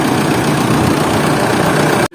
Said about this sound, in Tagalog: Nakikita nyo yung makina, kalmado na siya, hindi na siya mabibrate.